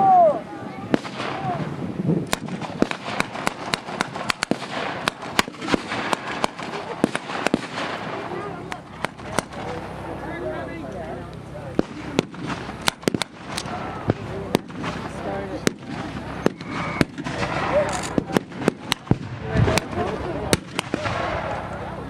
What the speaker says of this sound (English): You can see we've got a 2-inch mortar that we're firing in the field.